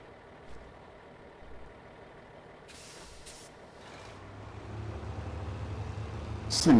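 A big truck's engine rumbles and swells in volume toward the end, with a few brief hissing bursts like air brakes partway through; no one talks.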